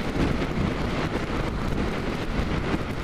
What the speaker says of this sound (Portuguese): O vento tá tão forte, tá empurrando os carros, velho.